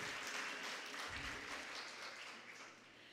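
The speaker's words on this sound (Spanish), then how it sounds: "Fuerte el aplauso para Cable and Wireless Panamá." An audience at a regional national oratory contest in Panama applauds a sponsor, a fairly faint, continuous patter of clapping that gradually fades toward the end.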